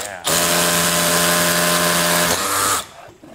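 A small Milwaukee M12 SDS drill whirs at a loud, steady pitch for about two and a half seconds in a garage, then spins down and stops, with quiet talk around it.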